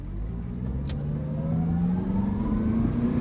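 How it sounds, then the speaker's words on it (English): A used Honda car's engine revs up under light throttle, a steady mid-range drone rising smoothly in pitch over a few seconds, close and fairly loud, with no talking. "we'll give it a little gas and see what happens"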